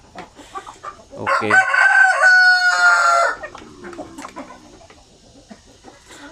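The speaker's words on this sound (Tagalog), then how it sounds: "So, ito ay mga dumalaga natin ng mga sampin." Native Filipino chickens, young pullets of the sampin breed, cluck around a farm while a rooster crows loudly and close for about two seconds, followed by softer clucking; a voice briefly speaks.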